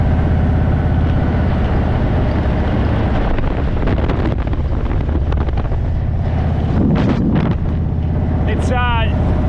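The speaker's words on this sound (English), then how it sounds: "The winds are picking up today. It's really windy." Strong wind buffeting the microphone at a roadside fuel stop on an outback road trip, a loud, continuous low roar with gusts, and someone speaking over it.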